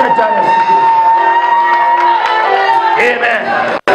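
A church congregation claps and cheers loudly, with shouts and raised voices blending into a sustained roar that dips briefly near the end.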